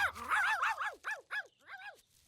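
A cartoon dog barks and yips in a quick burst of about eight rising-and-falling barks, close and loud with short gaps, alone without speech.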